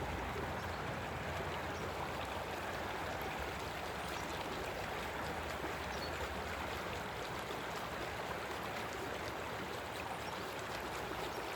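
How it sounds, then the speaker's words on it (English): Water squirts and flows steadily into a gold mining sluice bowl outdoors in Colorado, a constant broadband rushing wash, fairly faint and unbroken throughout with no speech. "water now is squirting over areas where it didn't squirt"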